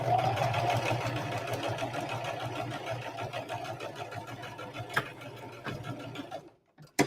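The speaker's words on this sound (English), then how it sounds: "I'm taking my clip and I'm just going to sew on over" A sewing machine runs steadily while stitching a fabric Christmas stocking, a close, continuous mechanical whir with a rapid needle rhythm, then halts near the end with a couple of sharp clicks.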